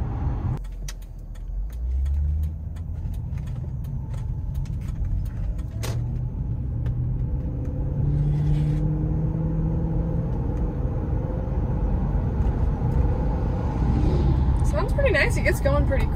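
A 2002 Lexus SC430 hardtop convertible engine hums and rises in pitch as it accelerates along the road, a steady low rumble with voices talking over it.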